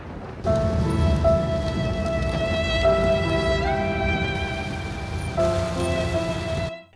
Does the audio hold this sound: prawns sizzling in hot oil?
no